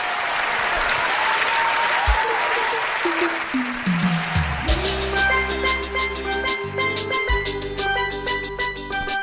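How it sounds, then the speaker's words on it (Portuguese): A TV variety-show audience bursts into loud clapping for an introduced singer, the applause filling the first few seconds before tapering as music takes over. "eu quero uma salva de palmas para ele"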